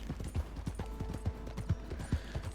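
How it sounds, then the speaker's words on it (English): A horse in a video game walks with steady, evenly spaced clip-clop hoofbeats at moderate distance, accompanied by a faint sustained tonal hum. "Is that a horse over there?"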